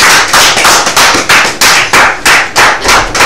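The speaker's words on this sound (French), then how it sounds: "Merci, on applaudit pour monsieur." An audience applauds on a TV2 Togo set, close and loud, with dense hand claps in rhythmic waves that swell and fade about every half second for the whole stretch, with no voices.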